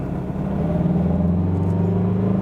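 A 2017 Mazda CX-3 diesel accelerates from 30 to 50 in second gear, a steady low engine drone rising gradually in pitch, heard from inside the car with no talk.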